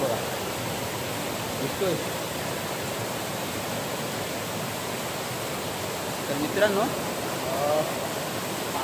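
Steady broadband rush of a waterfall seen from below on a monsoon hike at Vaghalyacha Kada, constant and fairly loud, with someone talking briefly over it near the end.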